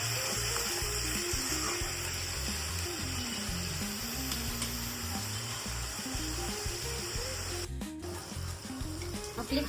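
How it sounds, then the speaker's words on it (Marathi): Onion paste sizzling steadily in a pan for a chicken dum biryani, a close, constant frying hiss with a low bubbling underneath and a brief clatter near the end. "हा कांदा हे 10 ते 15 मिनिटं होऊ द्यायचा आहे"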